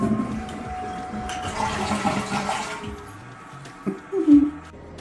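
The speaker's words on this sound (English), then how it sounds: "Wait, it makes weird sounds. Zach calls it the singing toilet." A toilet at a Gettysburg bed and breakfast inn giving off odd singing sounds: a wash of running, refilling water with a faint whine, then a couple of short tonal squeaks near the end, close by.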